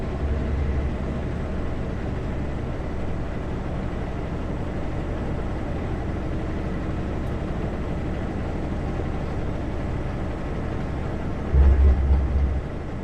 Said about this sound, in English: Still have my engine brakes on full.